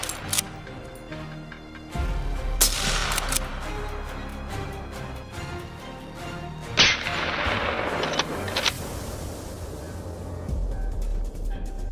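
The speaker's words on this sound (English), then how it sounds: "The moment his prey came into view, rapid gunfire erupted, stopping the beast in its tracks." Several gunshots crack out during a wild boar hunt, sharp loud reports spaced irregularly over a rumbling outdoor background, with a few closer, louder blasts in the middle.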